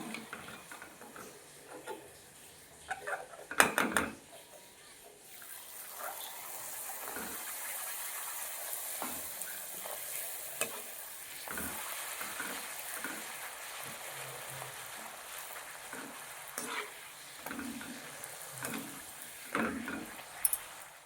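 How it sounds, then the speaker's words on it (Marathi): Puris made from wheat flour with a little maida fry in hot oil, giving a steady bubbling hiss broken by sharp utensil clinks and taps against the pan. "आता आपल्याला असे सगळे तळून घ्यायचे आहे"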